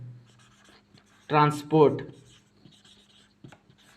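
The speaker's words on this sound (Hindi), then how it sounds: "देखो मैं कैपिटल में लिख दे रहा हूँ" Capital letters being written on paper with a pen, a faint scratchy stroke sound running through the clip, briefly covered by a man's speech in the middle.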